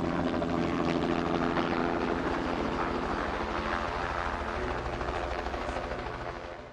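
A helicopter spreading poison bait over New Zealand forests makes a steady, loud, broadband rotor roar that fades slightly toward the end.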